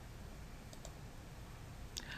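A computer mouse clicks a few times, quick faint taps at close range over a steady quiet room hiss, with a small cluster near the end.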